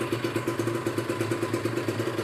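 A 2012 Kawasaki Ninja 150 RR two-stroke motorcycle engine idles close by, a steady buzzing putter with rapid regular pulses and no voices.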